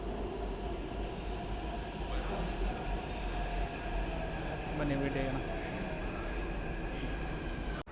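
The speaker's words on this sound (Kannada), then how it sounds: "ಮೆಟ್ರೋ ಬರ್ತಾಯಿದೆ ಇವಾಗ" A metro train arriving at a station platform makes a loud, continuous rumble with faint wheel squeal that fills the whole stretch, while a person talks over it.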